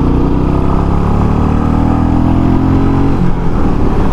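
A 2021 Royal Enfield Meteor 350 motorcycle cruises on a highway, its engine a loud, steady low drone mixed with rushing wind noise.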